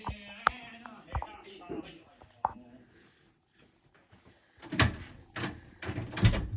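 A stuck door is forced open with a sharp bang and thuds, followed by a quiet stretch and then louder rattling, scraping bursts, with a voice speaking in between.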